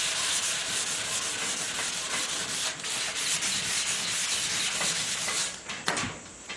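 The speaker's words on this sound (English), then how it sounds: "it takes some sanding" Wet sanding a guide-coated body panel on a Willys CJ5 under restoration: continuous close rubbing strokes of abrasive over metal, a steady scrubbing rasp that pauses briefly near the end.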